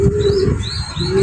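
A restless young male pigeon in moult makes close, low cooing and soft calls across a short stretch, with faint chirps above a steady background hum.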